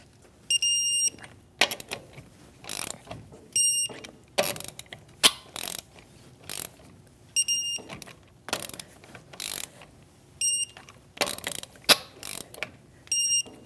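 Torque wrench clicking as trailing arm bolts on a 2016-2025 Chevrolet Malibu are tightened to 100 foot-pounds in a crisscross pattern, a series of sharp ratcheting bursts separated by short pauses, close and fairly loud.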